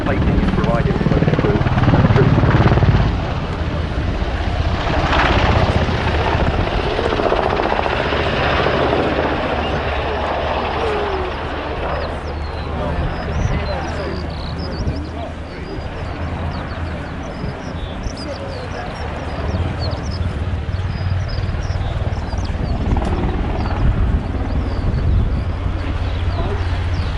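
An NH-90 military transport helicopter performs a flying display at an air show, its loud rotor and turbine roar steady and close, with the blade thump swelling and easing as it decelerates into a quick stop, a commentator's voice over the noise.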